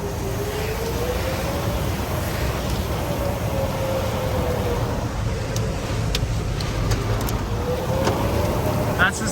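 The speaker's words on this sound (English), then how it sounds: "That's the sirens of Manhattan," Tornado warning sirens in Manhattan, Kansas, wail faintly in the distance, slowly rising and falling beneath a steady, heavy roar of broadband noise.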